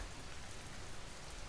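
Light drizzle falling over a misty town, a soft, steady hiss of fine rain with faint low rumble beneath, even and unbroken, with no voices.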